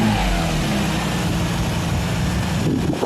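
A Lexus IS300 with a manual swap and unresolved issues has its engine revved hard. The engine roars loud and steady throughout, close up, with no talk.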